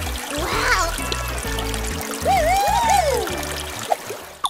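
Water from a portable camping shower device spatters and trickles steadily nearby, while a voice sings over it and a low droning hum pulses beneath.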